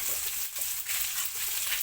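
Squid coated in egg and all-purpose flour sizzles and crackles in a hot pan, with a continuous hiss and soft scraping from stirring.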